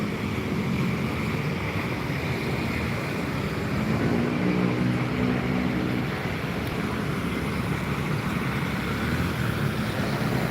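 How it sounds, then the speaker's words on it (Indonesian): An LPG truck rumbles past a bus terminal at Kilometer 12 in Palembang, South Sumatra, a steady loud roar of engine and road noise with wind buffeting the microphone, swelling slightly midway as it goes by. "Ini truk LPG melintas di depan terminal."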